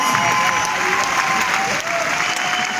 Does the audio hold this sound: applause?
yes